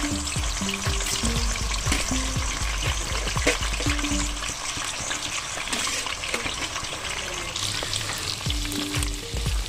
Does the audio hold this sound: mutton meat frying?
yes